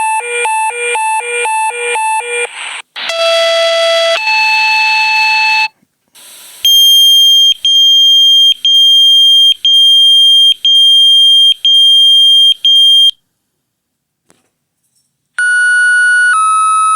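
A sequence of Active911 pager alert tones: clean electronic beeps in distinct patterns, from rapid stepped chirps to long sustained tones and repeated evenly spaced pulses, sounding loud and alone, with short silent gaps between the patterns.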